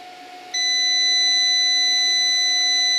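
A steady, high-pitched electronic continuity-test beep from a Venlab VC-600D clamp meter starts abruptly and holds continuously, loud and clear, with no other sounds around it.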